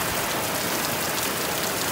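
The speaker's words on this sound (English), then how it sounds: "Can it really rain this fucking hard?" Extremely heavy rain pours down on an Alaskan homestead, a dense, unbroken roar of water hammering surfaces close by, loud and steady throughout with no talking.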